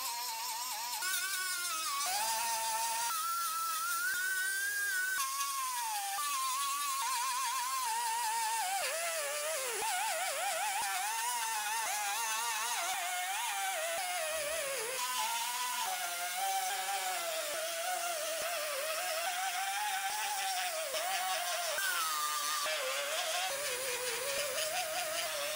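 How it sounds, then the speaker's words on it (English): An angle grinder works along the welds on the roof of a 2019 Sierra Denali 2500HD truck. It gives a steady, loud, high whine that rises and falls in pitch as it bites into the metal, running continuously with no talk. "We'll just keep working our way forward, grinding each weld as we go."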